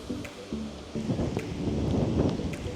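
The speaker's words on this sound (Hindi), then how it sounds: "और ये हमारे बैठे बैठे बारिश भी शुरू हो गई है।" Light rain begins falling onto a pond by Nizamsagar Dam near Hyderabad, a soft, steady pattering hiss that builds slightly in density over the few seconds, with no voices.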